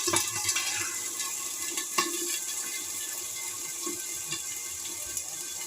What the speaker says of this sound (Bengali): এবার আমি আলুগুলো এইভাবে ছেড়ে দিই।